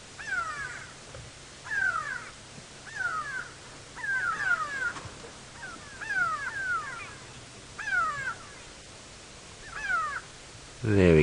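Francolins call from a thicket in a series of harsh, rasping alarm bursts repeated roughly every second or two, fairly close and loud, over a steady outdoor rumble on an early-morning safari drive.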